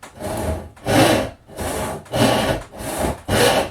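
Hand saw cutting wood pieces for toy balancing blocks, five or six steady rasping strokes in an even back-and-forth rhythm, close and loud.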